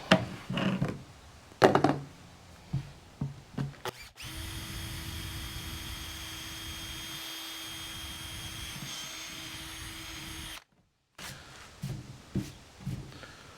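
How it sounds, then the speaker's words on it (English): A power drill whirs steadily for several seconds, bracketed by handling knocks and clunks before and after, recorded up close. "So all you want to do is just drill your hole"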